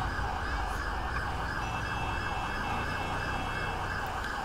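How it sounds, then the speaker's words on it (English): An ambulance siren in GTA V wails steadily and continuously, fairly loud, with no talking over it. "I hear an ambulance."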